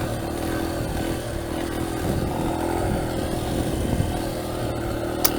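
A freshly rebuilt Yamaha TTR125L dirt bike with a new piston being broken in on a wet, overgrown bayou trail, its engine droning steadily with small throttle changes and occasional clatter.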